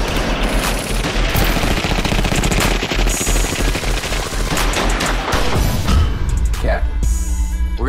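Gunfire in a TV crime-drama trailer, dense machine-gun bursts rattling continuously over a driving music bed, with loud booming hits near the end and voices mixed in.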